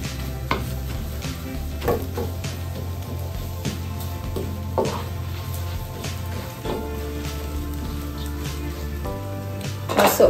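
Chicken tripe with white pepper stirred in a hot pan, a steady scraping and sizzling with soft utensil scrapes and clinks repeating close by across the whole stretch, no voices.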